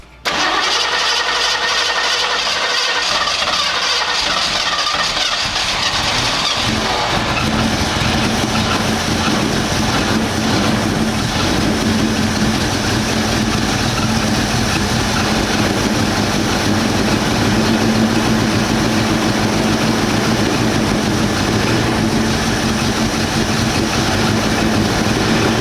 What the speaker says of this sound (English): So we're gonna try firing it up.